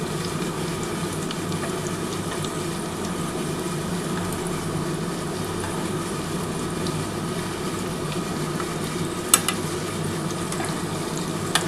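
Egg chops fry in oil over a low gas flame, giving a continuous, even bubbling sizzle, with one sharp pop near the end.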